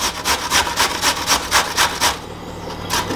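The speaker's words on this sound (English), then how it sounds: "So I've just chopped the pepper and the onion, so I'm just going to be grating" Carrots being grated by hand, a rhythmic series of about nine rasping strokes in quick succession, close and fairly loud, with a brief pause before one last scrape.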